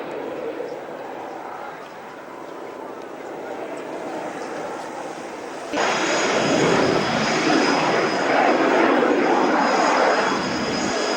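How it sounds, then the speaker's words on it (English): A propeller aircraft and a jet fly side by side at the Biggin Hill Battle of Britain Day air display, a loud steady engine roar that swells sharply halfway through and holds, with a commentator talking over it. "Prop and jet, flying side by side, very, very smartly."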